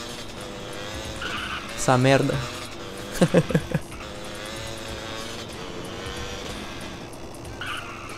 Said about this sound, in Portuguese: Sempre quando eu entro nessa moto, tem que ligar o motor dela.